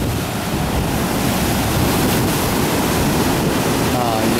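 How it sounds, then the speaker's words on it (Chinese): Ocean waves crash and roll continuously onto the rocky shore at Yehliu, Taiwan, a loud, steady wash of surf with wind buffeting the microphone throughout. "稍微有点浪大了。"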